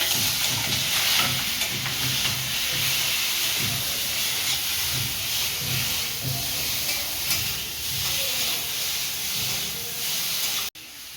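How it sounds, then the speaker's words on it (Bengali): Prawns fry in a pan with a constant close hiss of sizzling oil, light stirring and spattering throughout, and no speech. "চিংড়ি মাছটা ভেজে নেব।"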